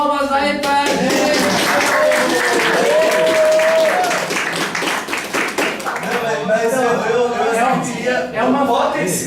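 Audience applause at a lecture on the culture of indifference, a dense crowd clapping steadily for about nine seconds, with a speaking voice running through it.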